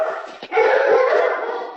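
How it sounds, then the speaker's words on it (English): Dogs barking and yipping indoors close by, with a short yelp followed by a sustained whining bark that lasts more than a second. "sorry, the dogs."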